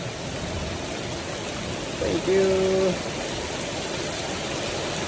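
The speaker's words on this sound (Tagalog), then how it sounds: "Kakusog sa ulan." Heavy rain in Thailand hisses steadily from start to finish, with a short spoken phrase in the middle.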